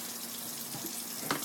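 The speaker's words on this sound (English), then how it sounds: "Should I turn off the water?" Tap water runs steadily into a kitchen sink, a soft continuous hiss close by with a brief splash near the end.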